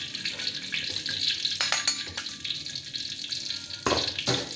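Vegetables wilting in a hot pan of oil for a simple sambal, giving a steady close sizzle and crackle with a few sharper bursts of spatter.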